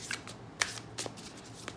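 Tarot cards are shuffled by hand in a few quick riffling bursts, crisp and close against a quiet background, with no one speaking.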